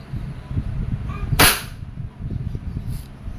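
One sharp crack from a Wingun 708 airsoft revolver fired single action, close and loud, standing out against quiet background noise, with a fainter click shortly after.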